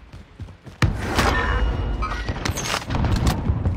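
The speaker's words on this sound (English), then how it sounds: "they're shooting at me" Video game gunfire erupts in a sudden loud burst of rapid shots and booms after a quieter opening, continuing in dense, overlapping volleys with no speech.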